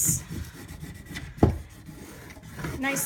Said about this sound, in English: all I'm doing right now is just going back and forth to kind of rub that sticker to make sure it's nicely